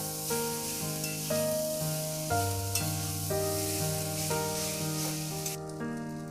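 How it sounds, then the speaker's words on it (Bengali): Boiled noodles for veg chow mein being mixed in a pan over high heat, giving a continuous close sizzle with stirring and scraping strokes, with no talking, while tonal background music plays throughout. "এবার আমি এর মধ্যে দিয়ে দিচ্ছি বয়েন্ড নুডলসগুলো এগুলো দেওয়ার পরে খুব ভালো করে একটু মিক্স করতে হবে"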